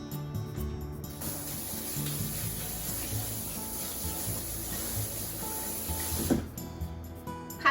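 A sweet potato, skin on, being scrubbed under a running kitchen tap, with a steady close splash of water that stops abruptly near the end, followed by a couple of small knocks.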